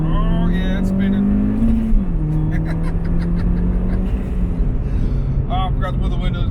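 Turbocharged R56 Mini Cooper S in sport mode with traction control off, pulling hard with wheelspin: a rising, strained engine drone heard from inside the car, with voices over it.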